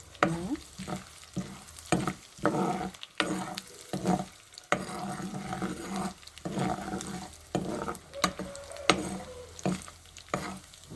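Four dried red chillies crackle in hot oil while being stirred, making bursts of sizzling broken by short pauses and occasional spoon clinks against the pan.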